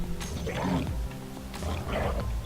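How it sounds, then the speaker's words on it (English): Wolves attack the player in the survival video game Space Engineers: two close, deep growling snarls, each rising and falling, with a voice faintly underneath. "Oh, the wolves are attacking me!"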